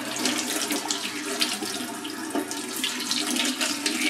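Tap water runs steadily into a sink while a G-Shock GA1000 watch is washed under it, a continuous close splashing stream with no speech.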